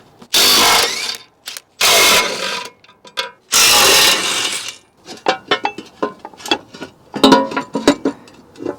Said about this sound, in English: So let me get that access plate off, grab some wrenches, see if we can pop this thing off.